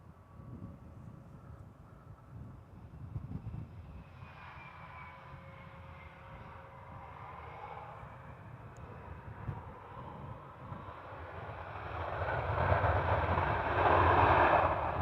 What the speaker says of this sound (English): behind it we have a 737 coming in from Munich